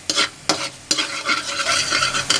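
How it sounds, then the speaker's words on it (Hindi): A spoon stirs tikka karahi gravy in a pan, scraping in repeated strokes over a steady sizzle, close up and loud. "इसे हिला लेना फिर।"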